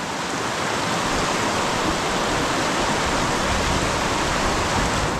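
Fast-moving water in a wild trout stream rushes in a loud, steady, unbroken roar close by, with no voices.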